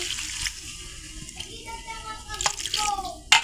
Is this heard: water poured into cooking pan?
yes